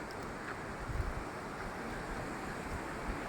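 Waterfall water flows through a dense forest in New Hampshire, giving a soft, steady broadband rush with faint low rumbles, distant and unbroken.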